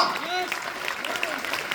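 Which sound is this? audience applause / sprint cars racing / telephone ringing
audience applause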